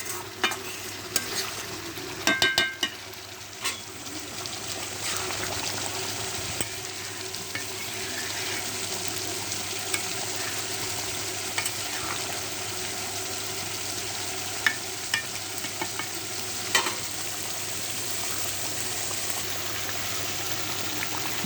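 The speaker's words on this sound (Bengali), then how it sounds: "মশলা ভালোভাবে কষিয়ে নেব।" Spices sautéed in a pan for goat meat curry, a steady bright sizzle running throughout with occasional scraping stirs and light clicks of the spoon.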